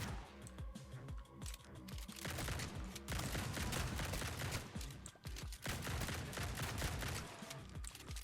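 A shotgun blasts again and again in a survivors-like video game, its shots packed into dense, overlapping volleys of loud gunfire that barely pause across the whole stretch.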